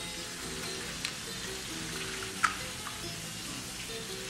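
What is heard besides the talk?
eggs frying in hot oil for farofa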